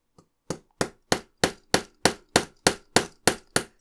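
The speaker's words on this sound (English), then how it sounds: "I'm gonna use my hammer, I think." A hammer taps sharply eleven times on parts of a 1:8 scale 1961 E-Type Jaguar model, in a steady, even rhythm, each knock crisp and close, with no talking.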